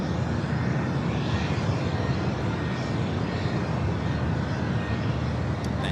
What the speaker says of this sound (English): This is the 737-800 Delta Airlines flight